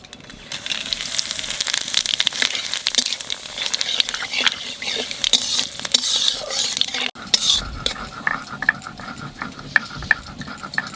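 Dried red chillies, bay leaf and cumin hit hot oil for a Bengali mutton curry, sizzling under busy clatter of a metal spoon stirring against the pan, with a brief lull midway and faint talk in places.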